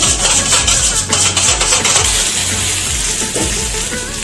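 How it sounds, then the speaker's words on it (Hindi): Potatoes frying in a pan for aloo posta, a loud continuous sizzle with periodic stirring and scraping sounds close by. "देखिए अब ये फ्राई हो चुका है"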